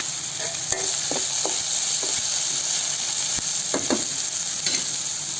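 Ginger garlic paste fries in a pan, a steady bright sizzle and hiss running throughout with occasional stirring scrapes and clicks, close and continuous, no voices.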